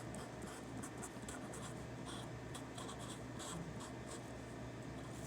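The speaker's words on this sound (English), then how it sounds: "here I'll just write it again." A pen scratches steadily across paper while a math problem is written out by hand, a continuous close rustling with small strokes and taps and no talking.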